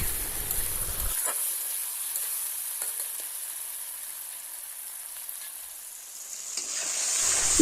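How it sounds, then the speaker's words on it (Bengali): Onion and tomato masala frying in a pan while being stirred, a steady loud sizzle with scraping strokes, fading quieter mid-way then swelling again near the end, no talking. "এখন নাড়াচাড়া করে মশলাটাকে কষিয়ে নিতে হবে"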